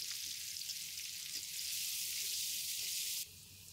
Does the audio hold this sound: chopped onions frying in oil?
yes